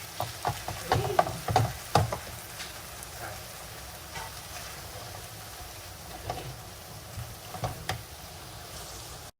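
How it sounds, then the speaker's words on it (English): A pan of tomatoes sizzles and crackles steadily over high heat, with a few scattered clinks of a spoon early on. "I'm just going to cook it on high so all the water is dried."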